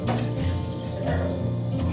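Six cups of water poured into a cooking pot on a gas stove for an ayurvedic kadha, a steady splashing stream running continuously and close by with no voices.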